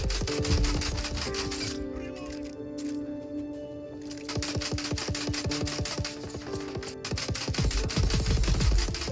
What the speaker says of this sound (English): exchanging fire with some enemies